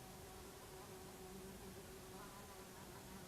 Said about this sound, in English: When you hear that fly buzzing around,